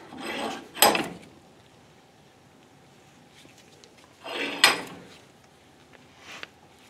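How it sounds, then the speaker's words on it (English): A Mustang door hinge squeezed in a bench vise, two separate grinding, creaking bursts of metal under pressure a few seconds apart, close and fairly loud, with quiet shop background in between. "I'm going to put this in the vise and line it up and use the vise to compress"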